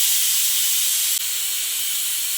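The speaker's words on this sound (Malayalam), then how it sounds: "ബീഫ് ഞാൻ ഒരുപാട് വിസിലടിച്ചിട്ടുണ്ട്." A pressure cooker of masala-rubbed beef in water, for a traditional Kerala beef fry, lets out a loud, steady hiss of escaping steam with a brief dip partway through, and no voices.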